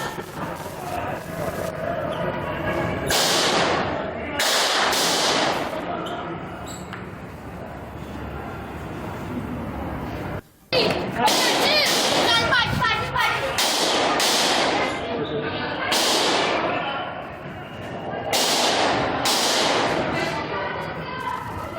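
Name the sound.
gunfire in court news footage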